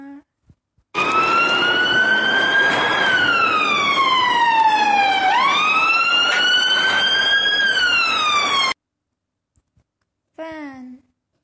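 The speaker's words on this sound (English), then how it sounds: "Police car." A police car siren wails loudly and close for about eight seconds in long rising and falling sweeps, cuts off, and then a short burst returns near the end.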